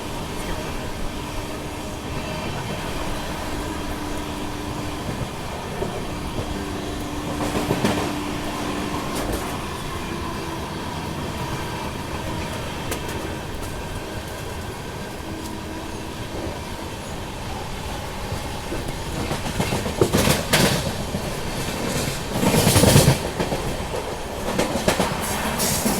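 The Secunderabad Duronto Express sleeper runs at about 90 km/h past Dhaulpur station, a steady heavy rumble of wheels and carriage with faint rhythmic clacks and a whistle-like tone, swelling louder near the end.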